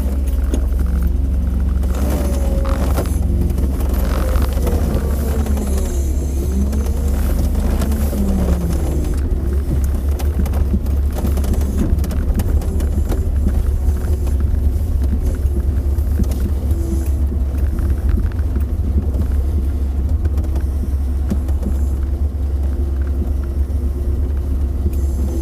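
A car with a 406 engine pulling away, a continuous loud low engine rumble and road noise throughout, with faint rattles inside the cabin and no speech.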